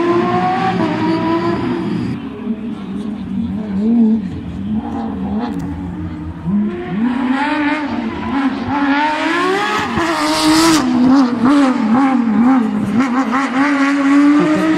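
A rally car screams along a stage at the Rally de Wallonie 2018, engine revving hard through rising and falling gear changes, building from a distant wail to a loud close pass with crackling bursts near the end.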